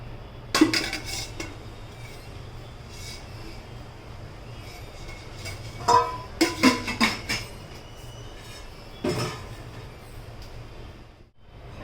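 A metal cooking pot is handled in a home kitchen while lentils for dosa sambar are set to boil, with a few bright clanks and clatters of metal on metal, one cluster of knocks mid-way, over a low steady background hum.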